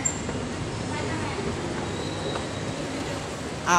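An LRT train at Anonas Station, a steady rumbling hum of rolling rail cars with faint squeal, heard from a platform while people talk nearby.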